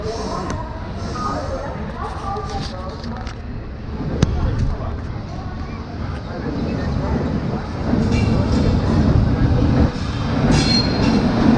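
Kovai Express passenger train running from Coimbatore toward Angamaly, heard from inside the carriage as a continuous loud rumble with wheel clatter and occasional squeals, with faint voices in the background.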